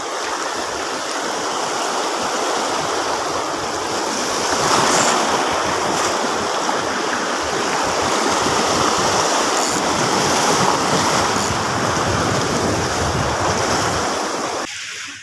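Loud, continuous crash and wash of strong ocean surf breaking nearby on a beach during beach casting, with wind rushing across the microphone throughout.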